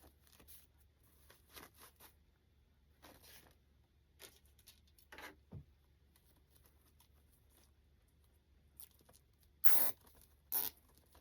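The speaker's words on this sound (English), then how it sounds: "Okay, I'm going to zip tie this." A plastic zip tie is ratcheted tight on a holiday door hanger: scattered soft rustles and clicks, then two loud, short ratcheting zips close by near the end.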